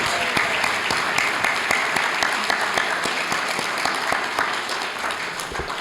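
An audience at an award ceremony gives a sustained round of applause, dense steady clapping at close, even loudness with a few sharper individual claps standing out, slowly easing toward the end.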